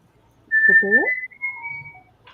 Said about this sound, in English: Somebody's whistling in the bathroom again